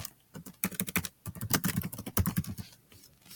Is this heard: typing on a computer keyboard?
yes